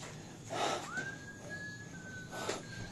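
A person whistling a single long, thin tone that rises and then holds steady, fairly faint, with breathy rustling noises around it and no speech.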